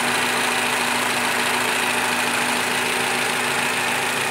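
A 2013 Toyota Camry G engine idles, a steady, loud, even hum with a constant low drone and no change over several seconds.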